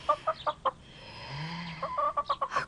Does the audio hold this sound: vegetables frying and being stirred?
no